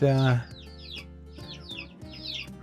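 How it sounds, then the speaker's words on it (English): Hens cluck in short, repeated bursts nearby in a mountain village on the Kanchenjunga Circuit, one louder call at the start followed by softer, scattered clucks. "There's chickens everywhere"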